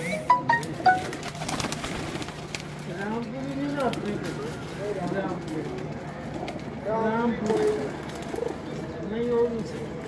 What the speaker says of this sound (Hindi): रामपुरी कबूतर